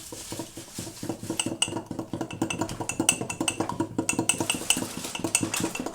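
A spoon scrapes and clinks rapidly against a mug while mixing eggless mug cake batter until it turns liquid, a steady fast rhythm of close metallic taps and scrapes.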